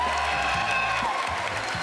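A crowd at a Bethesda E3 presentation applauds and cheers in a dense, continuous wash of clapping and shouts, loud and sustained.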